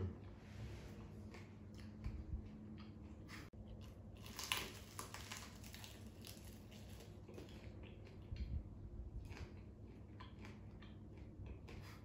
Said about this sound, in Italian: Dando un morso a questo fagottino potrete sentire una paradisiaca croccantezza irripetibile in qualsiasi altro panificato